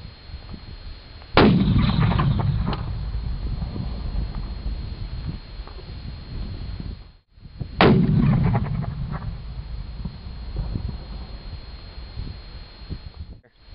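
Artillery guns firing at a field range: two loud, near blasts several seconds apart, each a sharp crack followed by a long rolling boom that slowly fades, with no voices.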